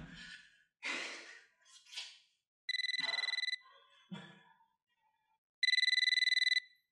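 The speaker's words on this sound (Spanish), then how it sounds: "está sonando el teléfono" A telephone rings in a Dominican film as two loud electronic ring bursts a few seconds apart, with heavy breathing and sighs in the quiet between them.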